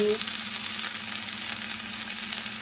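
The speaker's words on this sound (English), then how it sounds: "I'm just stirring the meat and the mushrooms and spinach together." Meat, mushrooms and spinach sizzle in a pan while being stirred, a steady moderate frying hiss under a low constant hum, with no one speaking.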